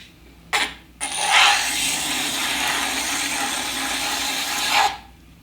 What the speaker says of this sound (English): I'm going to curl the edge up just a little bit with the pagoda rib here